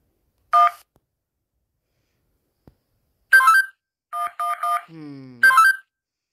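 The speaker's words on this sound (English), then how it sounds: "let's try the cell phone" Cell phone keypad tones in the Stickman prison escape video game: several short bursts of dialing beeps, one then a cluster of rapid tones, with a lower warbling tone near the end, clear and close.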